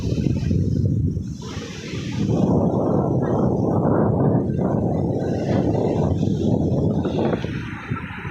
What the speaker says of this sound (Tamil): சரியான காற்று அடிக்குதுங்க.